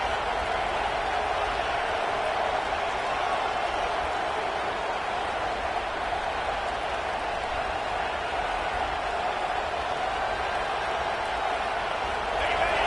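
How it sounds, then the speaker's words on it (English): In an American football video game, a stadium crowd roars in a steady, broad wash of cheering that holds at a constant loudness for the whole stretch. "And the crowd coming to life here, trying to help this defense down in the red zone."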